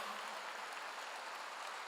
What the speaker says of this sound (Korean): 박수로 하나 돌리세요